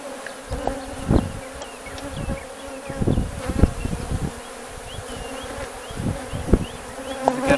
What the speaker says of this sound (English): A good amount of bees on top of the box, in the box, around the box, in the air.